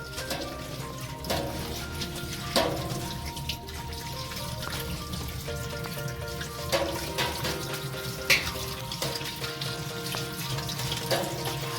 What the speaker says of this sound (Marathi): आपण स्वच्छ पाण्याने पहिले धुवून घेऊया, थंड पाण्याने.